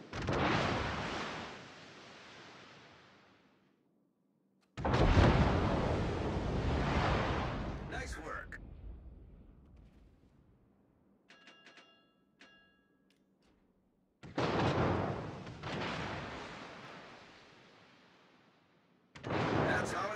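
Naval artillery booms in the World of Warships game, with four heavy salvos that roll and fade into a low rumble, separated by quieter gaps.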